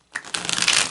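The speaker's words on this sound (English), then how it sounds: "So I'm going to take a moment to shuffle the cards." Oracle cards are shuffled by hand in a short burst of papery riffling and slapping that starts after a brief silence and continues, close and dry.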